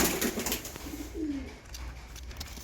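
Pigeons coo softly from nearby, with a low, rolling coo standing out against faint background noise.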